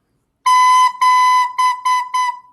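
A recorder sounds one steady note, the same pitch, five times in a row: one long tone, a second long tone, then three shorter ones. All are clear and close, with a few breaks between them and no voices.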